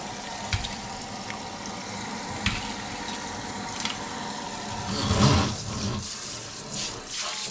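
Water runs steadily from a tap into a sink while things are washed down in a house in Korea, with soft clatter and a brief louder splash near the end.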